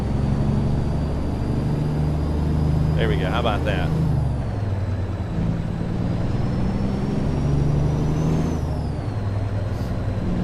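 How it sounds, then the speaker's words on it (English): A truck driving video game gives a steady, loud diesel engine drone with a short hiss and chirp of an air brake partway through, while someone talks over it. "We may turn the engine sounds up a little bit here."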